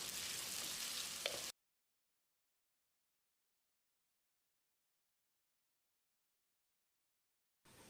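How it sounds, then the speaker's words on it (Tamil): Shallots and curry leaves sauté in a pan for a country chicken curry, giving a close, steady sizzle for a second and a half before cutting to silence, with a brief return at the very end. "இதோடைய 1 கொத்து கருவேப்பிலையும் சேர்த்து வெங்காயத்தை நல்லா செவந்து வர்ற அளவுக்கு வதக்கிடலாம்."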